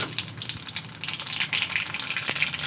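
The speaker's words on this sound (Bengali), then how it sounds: "তেলের মধ্যে দিয়ে দেব ফোড়নে কালো জিরে" Nigella seeds (kalo jeere) dropped into hot oil for tempering an ilish fish curry, producing a dense, continuous crackling hiss close up with no talking.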